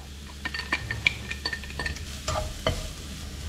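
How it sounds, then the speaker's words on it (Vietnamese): Minced shallots and garlic stir-fried in a pan for a coconut-milk toasted bread dish, heard as a soft sizzle under repeated scraping and clinking stir strokes, fairly close and moderate in level. "Cái này thì mình sẽ xào cho nó hơi vàng chút xíu nha các bạn, để cho nó dậy cái mùi thơm hơn."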